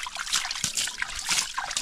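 Cold spring water trickles and drips from a mountain source in dry caatinga scrubland, a steady close babbling with small splashes and no voices.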